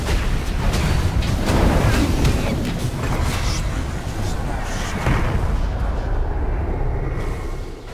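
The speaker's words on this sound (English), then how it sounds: "Dire's top tower is under attack." A Dota 2 tower under attack amid a chaotic teamfight, with dense, loud booming impacts, spell blasts and crackling bursts layered continuously before easing slightly at the end.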